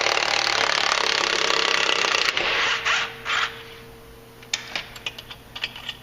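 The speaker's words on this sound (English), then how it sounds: "So usually the easiest way is an impact." Impact wrench backing off a clutch bolt on a 2014-15 Polaris Ranger 900, a loud continuous buzzing rattle for a couple of seconds, then cutting out into quieter mechanical clicks and clinks of parts being handled.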